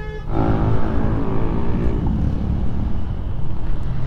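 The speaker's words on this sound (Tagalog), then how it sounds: "Traffic dito sa may Burnham Park." Road traffic near Burnham Park in Baguio City, a loud, steady engine rumble with wind buffeting, heard up close without talk.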